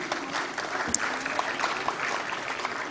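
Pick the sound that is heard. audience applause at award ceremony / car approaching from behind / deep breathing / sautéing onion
audience applause at award ceremony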